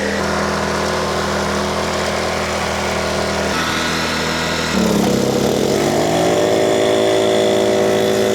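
A large air compressor runs while powered by a 2500W portable inverter generator, a steady loud mechanical drone with engine hum that shifts to a lower, heavier labored tone partway through as the load kicks in, with no talking.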